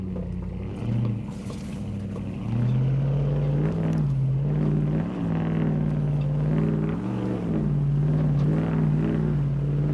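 A Ram pickup truck on Falcon Wild Peak M/T tires climbs over a boulder off-road, its engine droning low and steady, then rising into a louder sustained rev with surging pitch as it pushes up the rocks.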